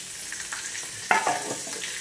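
Chicken frying in rising oil in a pan, with a steady sizzle and a few scraping stirs partway through.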